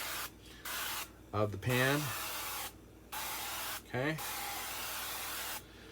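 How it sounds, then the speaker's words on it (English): Olive oil cooking spray hisses in a few short bursts onto a pan's sidewalls before pumpkin protein pancakes are made, the spray sounds spaced between brief stretches of talking nearby. "I've been using the olive spray because I want to get the sidewalls"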